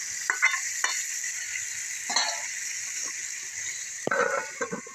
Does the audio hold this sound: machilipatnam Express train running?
no